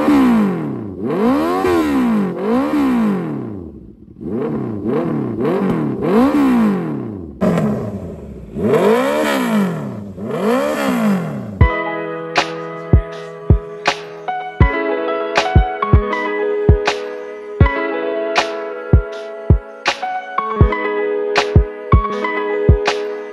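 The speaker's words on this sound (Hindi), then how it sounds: "और अभी आपको इसका एग्जॉस्ट नोट सुना देते हैं" Honda CBR650F motorcycle exhaust revved repeatedly, rising and falling in loud swells for about ten seconds, then settling into a steady idle punctuated by sharp throttle blips at close range.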